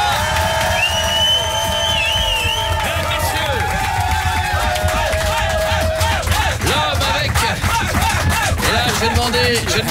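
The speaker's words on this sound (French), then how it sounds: "J'ai demandé des applaudissements" A studio audience breaks into loud, sustained applause and cheering, with dense clapping, shouts and crowd babble filling the whole stretch.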